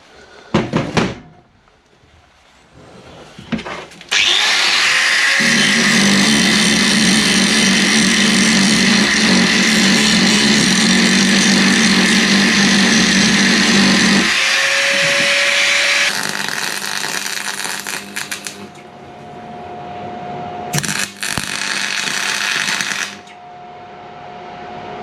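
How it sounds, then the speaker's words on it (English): An angle grinder flattens pushed-out metal around elongated holes during front linkage fabrication, a loud sustained grind for over fifteen seconds, preceded and followed by clunks and tool handling. "so I just need to grind them flat."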